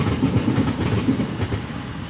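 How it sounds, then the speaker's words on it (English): A passing train rumbles nearby as a steady mid-loud roar, with a rhythmic clatter of wheels running through the noise. "Trains, yeah, we've been used to them."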